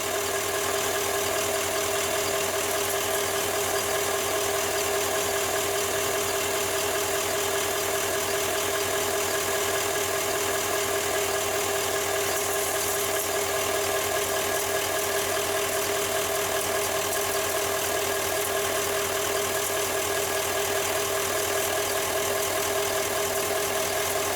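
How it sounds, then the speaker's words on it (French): A GMC Sierra 2500 pickup with an Allison 1000 six-speed transmission idles steadily for the whole stretch, a constant even engine drone with no revving and no voices. "vous laissez le véhicule virer au idle"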